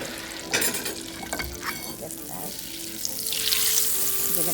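Butter and olive oil sizzling in a frying pan for pan-searing pierogi, a soft crackling hiss with a few stirring clatters, the sizzle growing brighter and louder toward the end.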